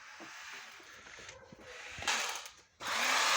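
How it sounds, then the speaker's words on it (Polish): An electric knife runs with a thin buzzing whir that rises in bursts, dips briefly and then comes back loud and steady at the end, with no voices over it. "taki elektryczny nóż. Działający."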